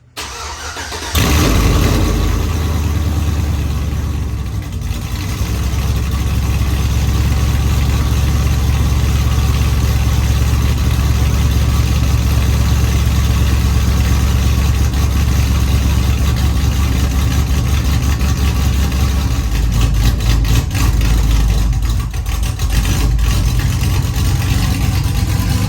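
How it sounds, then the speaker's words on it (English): A cammed truck engine with straight-pipe X-pipe turn-down exhaust cranks and roars to life, then idles loud and rumbling with a heavy, deep exhaust drone that stays steady throughout. "it is time for our very first startup with the straight pipe X pipe turn down exhaust"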